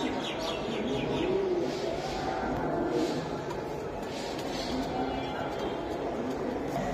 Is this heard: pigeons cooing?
yes